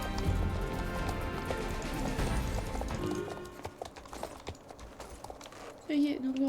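Hooves gallop in a rapid, steady clip-clop during horse riding in the video game Valedale, fairly faint beneath rain-like ambience and game music, fading toward the end.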